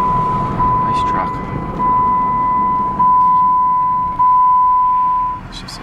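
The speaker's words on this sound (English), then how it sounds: "It's just a seatbelt indicator." A 2008 Jeep Wrangler X 4x4 sounds its seatbelt warning as a steady, sustained electronic tone lasting several seconds, with people talking over it inside the truck.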